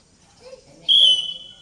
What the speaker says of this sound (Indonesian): Nah, kalau peluit dibunyikan mulai Adri ya.